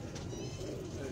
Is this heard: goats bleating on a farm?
no